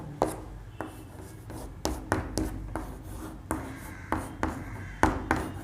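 A pen or chalk writes out a chemistry point in a series of short, crisp taps and scratches, each a quick stroke, sounding close and fairly quiet with small gaps between.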